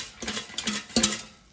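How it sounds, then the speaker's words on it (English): Frozen breaded green beans shaken in an air fryer basket, giving a few quick bursts of light rattling and scraping, close and clear, with no talking. "let's take out the air fryer basket and shake the crispy green beans so they brown"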